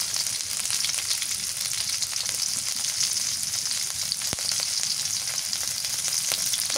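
Onion and green chili fry in a pan with a steady, dense sizzle that holds throughout, with a sharp tap of utensil on pan partway through and no voices.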